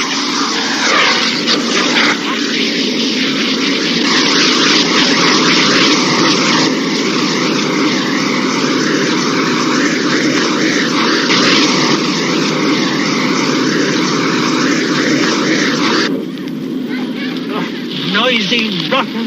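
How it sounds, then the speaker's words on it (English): A noisy jet aircraft roars loudly and continuously nearby, a sustained, dense engine rumble that eases slightly near the end. "Noisy, rotten jet."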